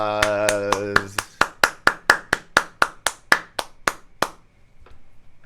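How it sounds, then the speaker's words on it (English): One person claps alone about fifteen times at a steady, slightly quickening pace, each clap sharp and close, with a voice heard just before the first claps and quiet once they stop. "Round of applause"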